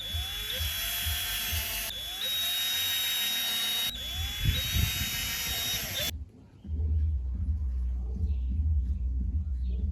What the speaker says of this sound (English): So what I did was I drilled it full of holes all along the crack line.